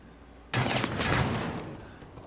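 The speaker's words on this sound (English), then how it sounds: "Gunfire rains out from bar" Gunfire erupts in a competitive tactical shooter esports match, starting as a sudden dense burst after a short lull. A sustained rattling barrage then holds for nearly two seconds before slowly thinning out.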